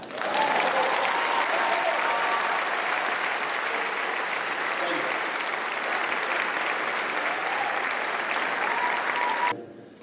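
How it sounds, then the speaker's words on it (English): A large crowd at a graduation ceremony applauds loudly and steadily for about nine seconds, then the clapping cuts off abruptly. "you can clap now"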